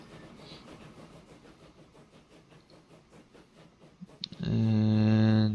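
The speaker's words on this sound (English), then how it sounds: "And here comes in a train" In the Train Fever video game a train rolls in with a rhythmic clatter of wheels, building up until a loud, sustained horn-like tone sounds at the end.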